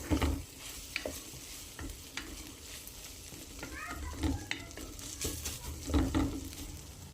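Pasta fries in a pan while being stirred, soft sizzling under a string of sharp scrapes and knocks from the utensil spaced a second or so apart, close and moderately loud.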